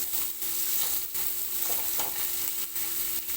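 Kerala-style fish fries in a little oil over low heat, a steady close sizzling hiss with soft bubbling pulses and no voices.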